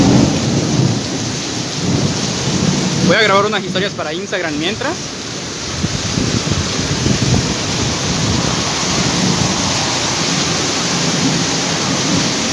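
Heavy rain pours steadily over the streets of Cancún as a broadband roar with thunder rumbling, loud and continuous; a voice talks briefly early on over the downpour.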